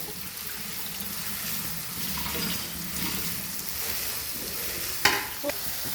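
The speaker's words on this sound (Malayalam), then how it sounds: "ഇതൊരു ബ്രൗൺ കളർ ആകുന്ന വരെ നമ്മളിങ്ങനെ ഇളക്കിക്കൊണ്ടിരിക്കണം" Ginger, garlic, shallots and onion fry in a pan for a lemon pickle, giving a steady soft sizzle under stirring, with a couple of sharp utensil clinks near the end.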